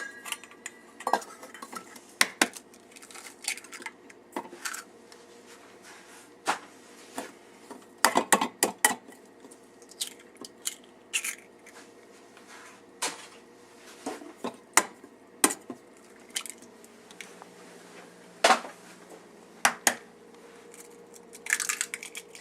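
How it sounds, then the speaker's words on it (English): Eggs cracked one after another against a small bowl in a home kitchen, giving sharp, close taps and clinks spread over about twenty seconds, with soft wet slips between them and no talking. "I'm going to break the 4 eggs into this little bowl"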